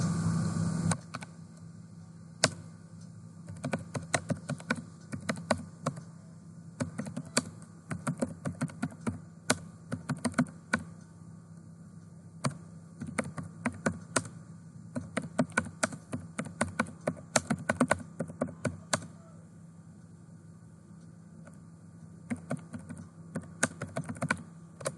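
Typing on a computer keyboard while entering a company address in Tally Prime accounting software, with bursts of quick clicking keystrokes and short pauses between them against a steady low hum, no speech.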